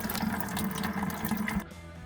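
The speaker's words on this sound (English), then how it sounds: "Okay, we'll let that pipe empty." Water gushes and splashes steadily as a pipe drains during plumbing work, then cuts off abruptly near the end, leaving a quieter hum. No one speaks.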